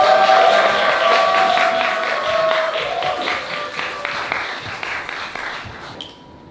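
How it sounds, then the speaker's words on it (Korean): A crowd at a talk concert applauds steadily as a performer is welcomed on stage, dense clapping that gradually fades out toward the end. "큰 박수로 저희 장혜영 동지 모셔보도록 하겠습니다."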